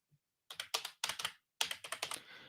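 Typing on a computer keyboard, close and clear: quick bursts of clicking keystrokes separated by short pauses, in an otherwise quiet room.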